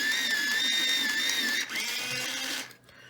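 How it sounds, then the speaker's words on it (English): A battery-operated AFMAT electric pencil sharpener grinding a colored pencil with a high, whining motor buzz that shifts pitch partway through, close and steady for about two and a half seconds before cutting off. "I have an AFMAT electric sharpener, battery operated actually"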